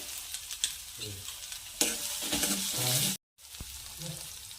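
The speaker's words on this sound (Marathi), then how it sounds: "कडीपत्ता हिंग ॲड करत आहे" Curry leaves and asafoetida crackle and sizzle in hot oil, a close, hissing burst that swells, cuts out briefly, then resumes with soft stirring.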